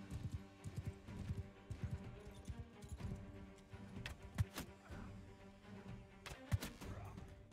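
Horse galloping in Mount & Blade II: Bannerlord, a rapid, uneven run of close hoofbeats with a few sharp louder strikes, steady throughout the stretch with no talk.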